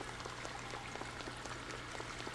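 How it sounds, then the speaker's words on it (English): Water runs and trickles continuously in a room in the video game Suikoden, a soft, steady pouring wash with faint droplet patter and no voices. "All the sound of running water just serenades me to sleep."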